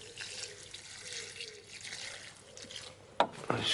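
Water runs steadily from a garden tap or hose for watering plants in a shaded food-forest berry garden, a soft continuous flow ending with a couple of sharper splashes.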